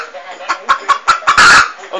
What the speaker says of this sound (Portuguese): essa galinha é 22